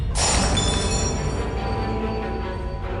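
A sudden sharp crash of a thrown glass lamp breaking, followed by a bright ringing tinkle of shards that slowly fades out.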